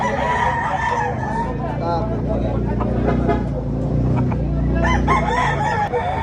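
Rooster crowing at a chicken expo in Consolacion, Cebu, loud and close with harmonic crows, amid clucking, nearby traffic and people talking continuously.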